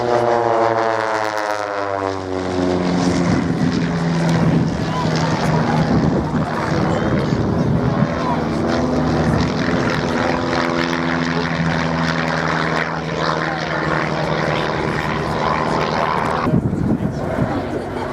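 Propeller aircraft flying a close formation display at an airshow, a steady loud engine drone with shifting pitch that swells and fades as the planes pass, under a commentator's voice throughout.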